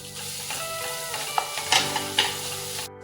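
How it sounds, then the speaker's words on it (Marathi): Chopped onion sautés over low heat in a pan with green chilli, a dense continuous sizzle with a few sharp stirring clicks near the middle that stops abruptly at the end. "गॅस बारीक करायचा कांदा घालायचा"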